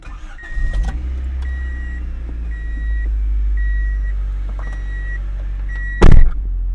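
A 1995 Honda Civic Si with a D16 engine cranks and fires up, then settles into a loud, steady low idle. Evenly spaced warning chimes sound over it, and a sharp thump comes near the end.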